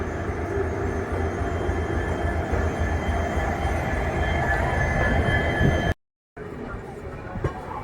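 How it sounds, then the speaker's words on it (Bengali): A late-running train rumbles loud and steady into Kharagpur station, continuous wheel and carriage noise with faint squeal, cut by a brief dropout near the end before the rumble resumes; a voice is faintly present. "খড়গপুর স্টেশন ঢুকছে এখন ট্রেন।"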